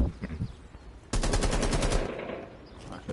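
A PS4 shooter game lets out a sudden loud burst of rapid automatic gunfire that lasts about a second, after some softer background game sounds and faint talk from players.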